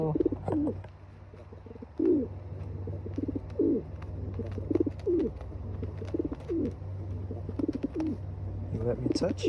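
Pigeons coo in soft, repeated bursts close by, with a steady low hum underneath and faint chirps scattered through the background.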